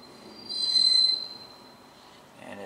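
A CN freight train's wheels squeal in a sharp, sustained high whine that swells and fades over a low rumble of passing rail cars as it arrives at Ladysmith.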